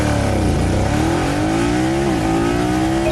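A BMW F900 GS motorcycle accelerates hard from a standstill toward 100 km/h, its engine note climbing in pitch through gear changes, loud and close throughout with no talk.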